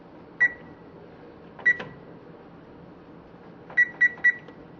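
A kitchen oven's control panel beeps while being set to preheat to 400 degrees, giving single electronic beeps followed later by a quick triple beep, fairly close against a quiet room.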